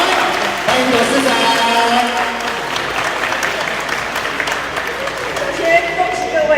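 Audience applause welcoming a company chairman on stage at a celebration party for a TV drama's record ratings, steady and full for the whole stretch, with a crowd clapping loudly and some voices mixed in.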